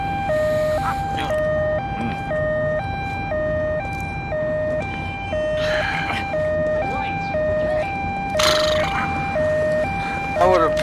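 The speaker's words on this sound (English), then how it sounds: "Drive your little ambulance over here and pick this guy up." Ambulance siren in a video game police chase, a loud two-tone wail alternating steadily high and low throughout, with someone talking over it and occasional bursts of noise.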